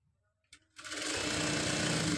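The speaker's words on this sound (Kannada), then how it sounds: "ಒಂದು 1/2 ಇಂಚಿಗೆ ಸ್ಟಿಚ್ ಹಾಕೊಳ್ತೀನಿ." After a few quiet clicks, a sewing machine starts up and runs at a fast, steady whirring clatter, stitching blouse fabric close by.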